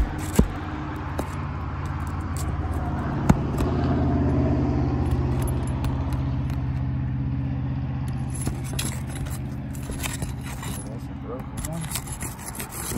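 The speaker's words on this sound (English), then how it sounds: "Sorry about the traffic behind me." Road traffic passing behind someone working on a roof shingle repair: a continuous low rumble that swells and fades as vehicles go by, with a couple of sharp knocks and some scraping over the top.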